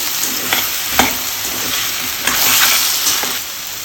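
Eggplant pieces with salt stirred in a hot pan for a Telugu-style curry, a spoon scraping in a few distinct strokes over a steady close sizzle, with no talking.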